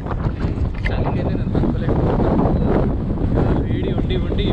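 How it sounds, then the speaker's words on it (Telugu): Strong wind blows outdoors in Barot Valley, Himachal Pradesh, during light drizzle, a loud continuous rushing buffeting the microphone from start to finish. "మీకు గాలి సౌండ్ కూడా ఉంటుంది, వినపడవచ్చు."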